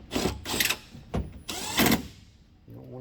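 Ratchet clicking in short bursts while tightening a T27 bolt with a white plastic washer on a 2020+ Jeep Gladiator third brake light, with brief pauses between the bursts.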